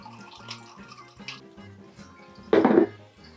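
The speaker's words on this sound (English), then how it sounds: "So you can hear there's liquid draining out of this already" Crab apple cider mash is poured out, a brief splashy gush of liquid rising over quiet background music before draining away.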